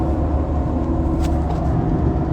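Steady low rumble of an engine and road noise heard from inside a big monster truck on the move, continuous and fairly loud, with no talking.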